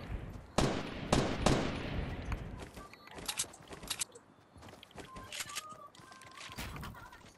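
Rapid bursts of gunfire in the video game Fortnite, a loud volley of shots at the start followed by scattered fainter shots and game effects.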